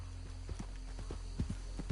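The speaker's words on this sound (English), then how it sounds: "Let me just put my horse over here, where she won't get shot." Horse hooves clip-clop in Red Dead Redemption 2, a steady run of soft, close thuds spread across the two seconds over a constant low game ambience, with no talking.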